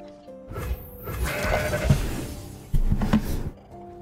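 Goat bleats from the card game Legends of Runeterra, two drawn-out calls over game background sounds with no talking.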